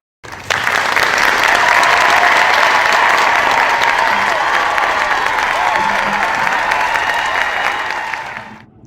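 A knife crime seminar audience bursts into loud, sustained applause that begins abruptly, holds steady with a hint of cheering, then tapers off at the end.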